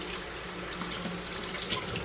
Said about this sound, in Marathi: ह्याला व्यवस्थित नळाखाली धुवून घ्यायचं